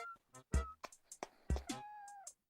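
A pet cat meows several times in short, fairly close calls, the last one drawn out into a longer wavering cry, with faint handling noises and no speech between them.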